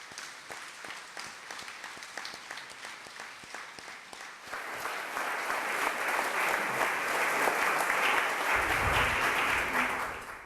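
An audience at a book launch applauds, a dense wash of clapping that swells louder after a few seconds and holds steady before fading slightly at the end.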